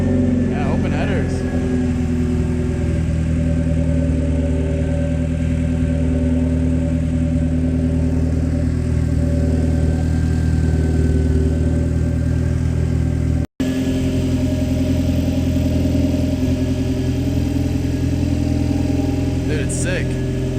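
A muscle car with open headers idles at a car meet, its loud, steady, deep engine rumble filling the scene at close range while voices murmur underneath.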